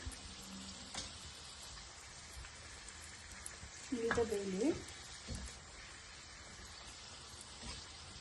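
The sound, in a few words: puri frying in oil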